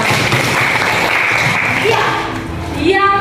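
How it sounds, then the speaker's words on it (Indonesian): Classroom applause for a student during a school lesson: a dense patter of clapping fills the first two and a half seconds, then fades as a teacher's voice continues. "tepuk tangan untuk Juang."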